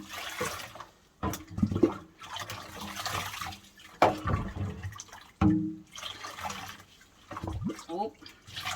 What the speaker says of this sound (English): next step is to rinse your diggity dog. You've got to get all the shampoo off.